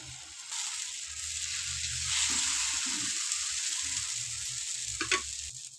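Mysore masala dosa batter sizzles steadily on a hot tawa, a close, loud frying hiss broken by a few light scraping knocks, with no talking.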